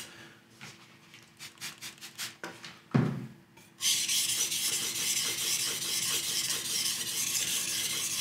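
A steel blade is stroked across a fine whetstone in a run of short, quiet rasping passes, then a brief knock, followed by a longer, louder continuous scraping stroke close by.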